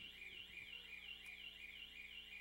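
An electronic alarm triggered inside a church sounds continuously, a steady shrill warbling tone repeating in rapid even cycles, loud and unbroken with no voices over it.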